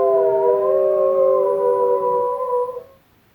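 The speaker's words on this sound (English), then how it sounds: "This is a wolf." A wolf howl played through a smart speaker: a single long, loud, steady howl with a slight upward bend, trailing off after about three seconds, heard alone.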